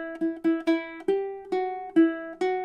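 Ukulele melody line played with alternate picking, about ten evenly spaced plucked notes with a few pitch changes, close, clean and moderately loud.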